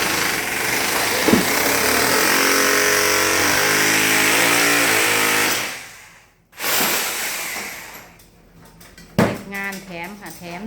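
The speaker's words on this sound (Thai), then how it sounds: "เจาะรูใส่หน้าต่าง" A power drill bores a hole through a window pane to fit an air conditioner, a loud continuous grinding whine with rising tones that cuts off abruptly, then short bursts resume with clattering.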